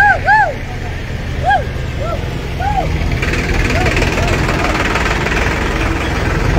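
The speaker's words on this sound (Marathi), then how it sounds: "ट्रॅक्टरचा आवाज आहे" A municipal tractor's engine runs steadily during street cleanup work in Mali Peth, Mehkar, as a continuous low rumble that lasts throughout, with voices over it.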